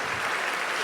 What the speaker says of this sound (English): Round of applause for Kathleen and Trish.